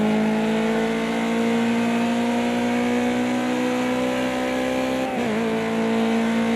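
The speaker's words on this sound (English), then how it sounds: "driving a full Focus on the Porsche track" A Ford Focus race car driving on the Porsche race track, its engine holding a steady loud drone close up, with a brief dip in pitch near the end as it lifts off for a corner.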